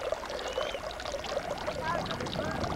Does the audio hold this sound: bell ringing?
no